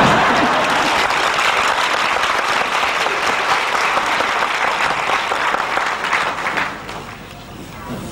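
Sustained audience applause at a Buddhist dharma talk in a Hong Kong hotel hall, dense steady clapping from a large crowd that fades toward the end.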